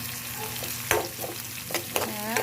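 Chili and onion fry in a pan, a constant close sizzle with a few sharp utensil knocks and scraping stirs, and a faint whine near the end.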